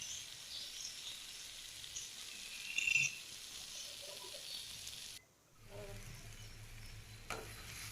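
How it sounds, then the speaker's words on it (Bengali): Taro leaf greens with ghee and garam masala being stirred in a pan, a soft continuous scraping and faint sizzle near the pot, briefly dipping quieter midway before resuming, with no talking. "তো ভালোভাবে মিশিয়ে নিয়েছি শাকটাকে।"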